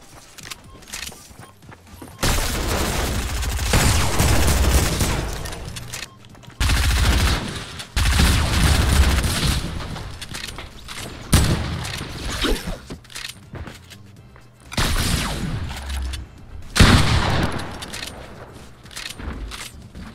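Fortnite Battle Royale gunfire, loud bursts of rapid shots and fusillades in several clusters across the stretch, with short quiet gaps between volleys.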